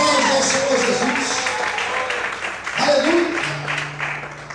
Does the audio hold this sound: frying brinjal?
no